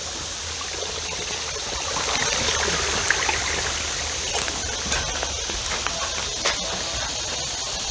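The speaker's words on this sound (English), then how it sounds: "the little creek" A small creek flowing on the grounds of a colonial plantation in Pennsylvania, a steady close rush of running water that continues unbroken throughout.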